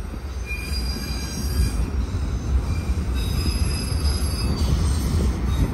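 Train wheels squeal loudly on the rails in Dallas, Texas, with high, shrill tones wavering over a constant low rumble of rolling railcars throughout.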